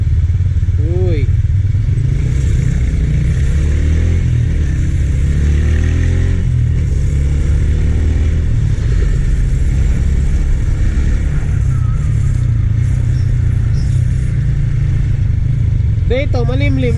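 Yamaha Sniper 150 motorcycle ridden through traffic, a loud close engine drone running throughout with brief revving swells and other vehicles' noise around it.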